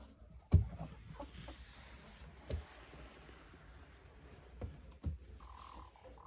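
A laying hen clucks softly in a henhouse, a few short low clucks spaced out over a faint steady background, with no talk.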